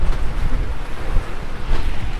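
Strong wind gusting over a harbour at about 17 to 22 knots roars loud and close into the microphone as a broad, constant rush of noise.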